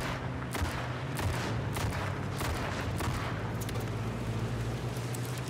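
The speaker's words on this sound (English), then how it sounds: "Somebody else is shooting at us." Gunfire in a tense shootout: repeated sharp shots and bursts pop over a dense, steady rumble, fairly loud and continuous throughout with no voices.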